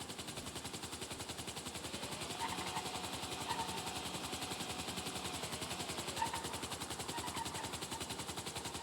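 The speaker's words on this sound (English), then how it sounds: "We want to make sure we park the helicopter, or make sure the helicopter sits down completely on the floor before we park it." A helicopter in GTA hovers near a hangar, its rotor making a fast, steady, even chop that stays constant throughout at moderate loudness, with a low engine whine beneath and no talking.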